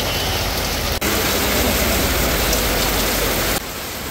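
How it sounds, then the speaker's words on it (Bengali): Heavy rain pouring down outdoors at a village market, a dense, continuous hiss of drops that stays loud and even for the whole stretch with a short break near the start. "মুষলধারে বৃষ্টি হচ্ছে বাইরে"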